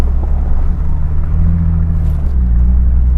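A Toyota fitted with Toyo RT Trail tires drives over ice on a snowy hill, its low engine rumble and drivetrain drone steady and loud inside the cab, with wind buffeting but no talk.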